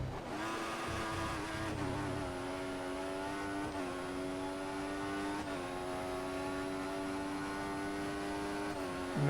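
Formula 1 race car engine in the F1 2014 video game, a sustained high-pitched whine with several quick gear shifts that briefly drop and climb in pitch, steady and close throughout.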